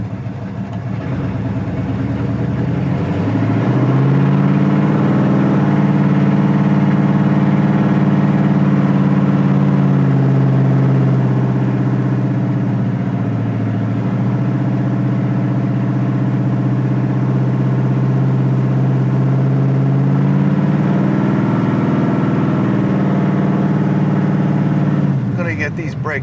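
A 1968 Chevrolet Chevelle engine runs loud and close, its deep rumble swelling as the car pulls away, easing, then building again in a long, sustained drone.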